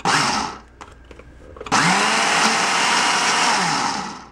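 A Ninja blender with a single-serve cup whirs loudly, a brief burst first, then clicks and handling noises, then a long steady high-pitched roar of the motor and blades.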